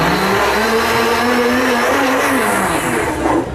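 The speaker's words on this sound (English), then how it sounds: "my 8 ounces of liquid in my blender." Loud, continuous whir of a blender chopping half a pound of spinach with eight ounces of liquid for a smoothie, the motor pitch rising slightly as it runs, then easing off at the end.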